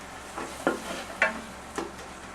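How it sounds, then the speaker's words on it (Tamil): Pepper-cumin powder stirred into sizzling masala in a pan: three distinct scraping strokes of a spoon over a steady close frying hiss. "மிளகு சீரகத்தூள் 1 ஸ்பூன் போட்டுட்டு நல்லா கிளறி விட்டுக்கோங்க"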